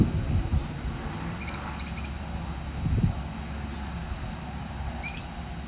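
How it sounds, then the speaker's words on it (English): Faint chirping birdsong comes in brief high trills at an Arizona sunset, far off under steady low outdoor rumble and wind, with no voices. "You hear the songbird"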